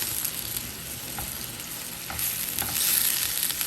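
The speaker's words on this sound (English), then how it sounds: "Stir these veggies all around now so they can cook." Vegetables are stirred in a hot pan while cooking for a chili and jerk shrimp dish, giving a steady close sizzle with a few soft scrapes and taps of the utensil and no talking.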